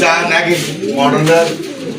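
A Kolshi Gola pigeon, one of a pair with ringed, stockinged legs, coos in soft repeated rolls close by while someone talks over it.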